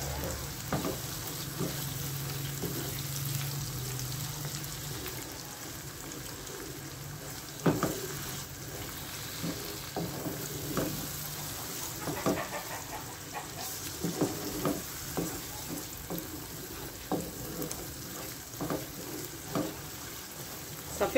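Beaten egg mixture sizzles and fries in a pan while being stirred, with scraping and tapping from the utensil coming through a steady hiss at close range. There is no talking.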